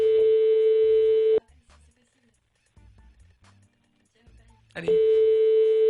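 A telephone call being dialed, with a steady electronic ringback tone sounding twice with a long pause between, under brief speech.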